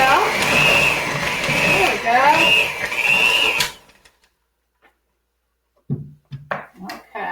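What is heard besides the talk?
electric hand mixer mixing chocolate chip cookie dough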